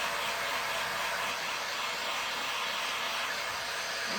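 Hair dryer blowing to dry paint on a handmade snowman purse, a loud, steady, even whoosh that runs unbroken through the whole stretch with no talking.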